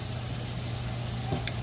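Oil sizzling hard in a pot while preparing Jamaican ackee and red herring, a dense continuous frying hiss close up and steady throughout, with no voices.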